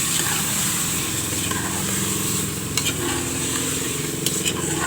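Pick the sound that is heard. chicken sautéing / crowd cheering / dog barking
chicken sautéing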